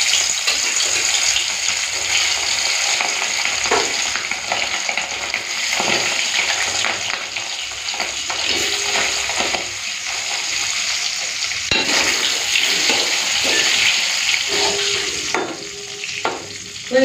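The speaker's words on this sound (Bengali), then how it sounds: "চলুন মাছটা ভেজে নিই।" Hilsa fish frying in hot smoking mustard oil, a loud continuous close sizzle and spatter with occasional stirring and utensil scrapes.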